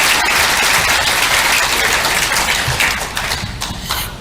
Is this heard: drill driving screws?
no